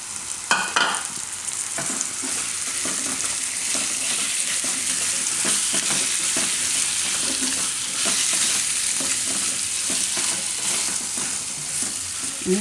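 Kantola (spiny gourd) sizzles steadily in hot oil with hing on a stovetop, a loud continuous fry punctuated by scraping stirs of a spoon in the pan, close and without talk.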